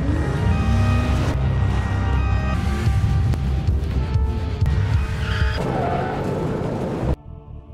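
During a movie car chase, tires shriek in repeated skids with rising and falling squeals over roaring engines. The loud scene then cuts off abruptly near the end.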